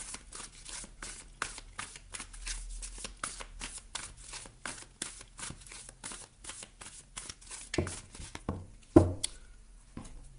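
Oracle cards shuffled by hand at close range: a long, quiet run of rapid papery flicks and taps in an uneven rhythm, with a sharper snap near the end and no talking.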